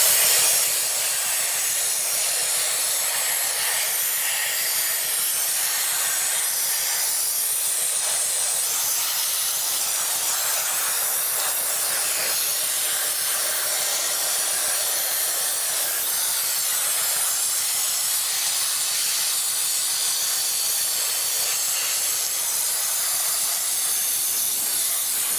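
Dry ice blasting on M2CS brakes outdoors in humid air, a loud, steady, unbroken hiss of pressurized spray running from start to end with no talking.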